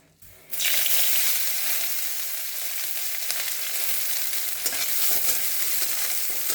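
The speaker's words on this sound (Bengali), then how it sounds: "তাহলে আলু পেঁয়াজটা একসঙ্গে ভাজা হয়ে যাবে" Potatoes and onions hit hot oil with cumin in a pan and burst into a loud, sustained sizzle that starts abruptly after a brief quiet moment and keeps crackling steadily.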